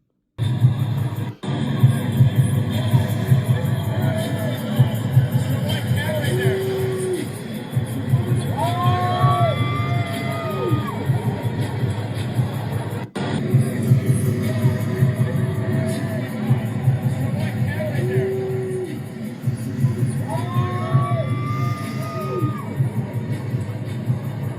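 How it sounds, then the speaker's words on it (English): Crowd booing played as a sound effect: a loud, dense wall of massed voices that runs unbroken for the whole stretch, with occasional whistles and shouts rising out of it. "I'm going to put on the booing."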